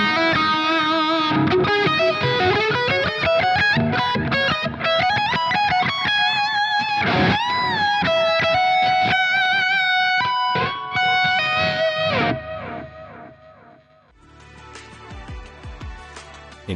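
An electric guitar plays through a GE200 Pro effects unit with hall reverb, loud ringing melodic notes and chords washing into a long reverb tail before a quieter strummed passage closes.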